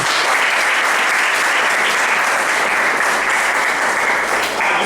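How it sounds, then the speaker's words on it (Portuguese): A congregation clapping during a Portuguese-language church service, a dense steady wash of applause that holds evenly throughout with no pauses. "Palmas para o Senhor Jesus."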